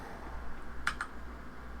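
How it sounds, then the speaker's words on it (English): A computer keyboard gives two quick, crisp key clicks close together near the middle, set against a faint steady room hum with no talking. "I used the keyboard this time and it worked fine"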